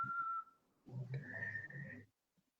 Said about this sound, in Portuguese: pense você assobiando